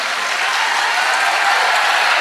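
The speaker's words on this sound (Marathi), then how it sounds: "एकदा टाळ्या होत्या गुंजन पाटील साठी" A crowd of students applauds steadily and loudly, a dense, even wash of many hands clapping together without a break.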